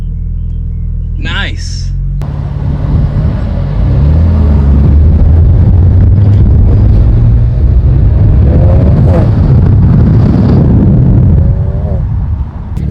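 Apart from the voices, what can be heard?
BMW with VRSF aftermarket exhaust, downshifting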